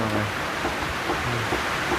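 Steady rain falls in a rural Thai village, a dense even hiss close by with no break, while a voice murmurs faintly underneath.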